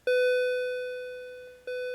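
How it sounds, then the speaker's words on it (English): A school bell rings at the end of class with a steady electronic tone that sounds once, fades slowly, then sounds again near the end, clear and alone. "that's the bell"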